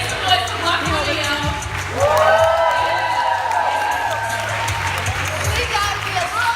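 An audience at a community event in a church cheers and claps for a performer, with whoops rising in the middle and a speaker's voice over the crowd.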